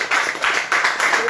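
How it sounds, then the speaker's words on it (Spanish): Church congregation clapping in a quick, even rhythm, several claps per second across a short stretch, fairly close and loud. "Dale un aplauso."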